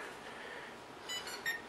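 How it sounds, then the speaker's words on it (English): A few short, high-pitched electronic beeps near the end from a Kolibri U818A-WIFI drone controller connecting, over a steady hiss of background noise. "You hear it beep"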